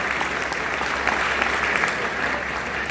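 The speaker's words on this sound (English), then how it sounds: "you gotta applaud that one" An audience at a Cinepocalypse film event applauds Michael Ironside, with continuous, evenly dense clapping over a low hum and no talk.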